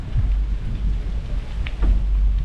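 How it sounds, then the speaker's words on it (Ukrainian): Heavy rain pours steadily on a city street in Poltava, Ukraine, with a dense low roar, close and constant, with a few faint drips or splashes standing out briefly. "Ні, ну дощ ще сильніше."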